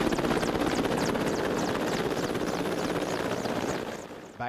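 A Mi-8 helicopter roars close by over eastern Ukraine, its rotor thumping in a fast steady rhythm under a loud engine whine, cutting off abruptly at the end.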